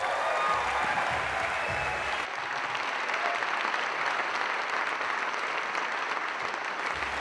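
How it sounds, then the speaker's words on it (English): A conference audience applauds steadily for speakers coming out for short presentations, a dense, even wash of clapping that fills the whole stretch, with a brief quieter dip partway through and no voices. "you're going to cheer your asses off for the first of the 3 speakers who are going to come out"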